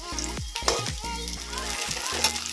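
Stuffed bhat korola, a bitter gourd, sizzles in hot oil, a soft crackling fry underneath bursts of close talking and a voice.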